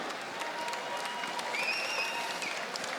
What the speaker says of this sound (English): Ladies and gentlemen, round of applause for our fighters this evening.